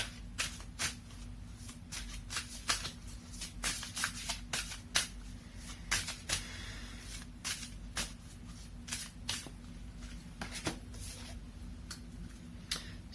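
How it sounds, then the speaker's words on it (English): Oracle cards from a Soul's Journey deck being shuffled and pulled, a steady run of soft riffling slaps and flicks over a low background hum, close and fairly quiet, with no talking. "let me pull up a oracle card for you from the Soul's Journey"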